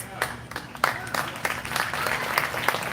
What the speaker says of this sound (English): That was our CFO clapping